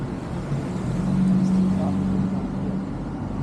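A pickup truck manoeuvres while parallel parking on a street in Helena, Montana, its engine giving a low, steady, moderately distant hum, with faint voices nearby.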